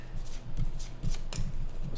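Someone shuffles a small deck of initiative cards for a Roman chariot-racing board game, with soft riffling and tapping bursts close by and no talking.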